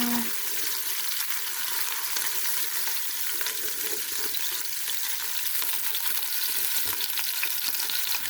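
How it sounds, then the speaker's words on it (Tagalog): Bottle gourd and sardines sauté in a hot pan with onion, giving a loud, steady sizzle and crackle broken by occasional stirring scrapes, with no talking. "Igisa muna natin siya."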